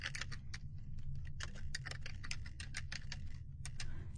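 Rapid, uneven keystrokes on a computer keyboard, close and fairly quiet, clicking in quick bursts over a low steady hum with no speech.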